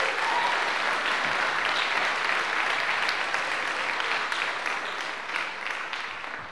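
Warm, continuous applause from a church congregation for the musicians at a candlelit carol service, sustained and fairly close, thinning slightly toward the end.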